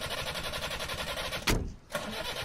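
A vehicle engine running with a steady rhythmic pulsing, briefly cutting out with a sharp click before catching and running again, close and moderately loud.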